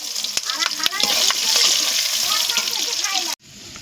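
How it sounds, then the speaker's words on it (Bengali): Onions frying in hot oil in a pan with bay leaf, dried red chilli and cinnamon for chicken ghugni. A loud, continuous sizzle with a few stirring knocks breaks off abruptly near the end. "এই পেঁয়াজটা ভেজে নেব"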